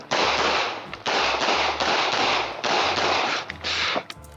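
Rapid pistol shots fired in quick bursts during a stage at a shooting match, loud and close, with short pauses between strings of fire and no talking.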